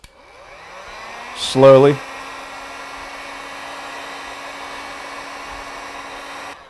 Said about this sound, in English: take the wax and the cover and heat the whole thing up